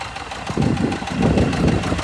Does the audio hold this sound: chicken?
no